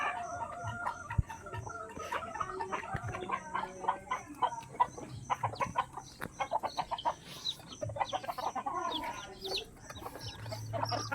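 Baby chicks in a brooder, some of them newly hatched, chirp and peep continuously at close range, with busy overlapping calls and clucking from older fowl underneath.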